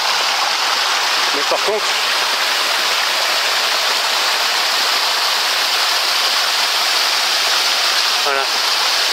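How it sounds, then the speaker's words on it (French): A small mountain river rushes steadily over rock on the south side of a massif, a loud, constant hiss of flowing water with a voice briefly speaking over it. "Ça c'est la rivière, elle est peut-être pas énorme"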